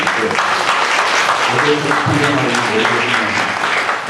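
A church congregation applauds with steady, dense clapping that fills the room throughout, while a voice briefly speaks over it.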